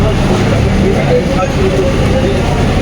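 Steady rumble of a moving train during the monsoon, a continuous low roar with rattling in an uncrowded carriage, while a voice talks over it.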